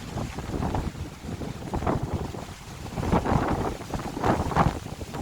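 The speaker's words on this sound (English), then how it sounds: "Wow, it's windy." Strong outdoor wind buffets the microphone in heavy, gusting low rumbles that swell and ease across the clip, loud and close, with no voice heard.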